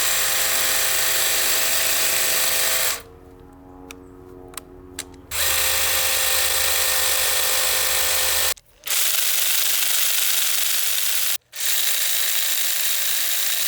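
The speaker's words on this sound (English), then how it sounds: "The hedge trimmer is the only attachment I have where I've noticed the difference between regular and eco mode" Husqvarna 325 iLK battery power head with HA860 hedge trimmer attachment running, a loud close mechanical buzz that drops to a quieter whir and changes pitch between regular and eco modes, with brief cutouts.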